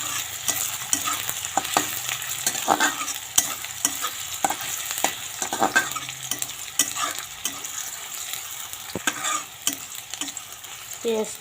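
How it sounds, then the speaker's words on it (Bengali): Onions sizzle and crackle steadily in hot oil, with frequent scraping and clinking as a spoon stirs the pan. "পেঁয়াজ কুচি দিয়ে একটু লাল লাল করে ভেজে নেব পেঁয়াজটা"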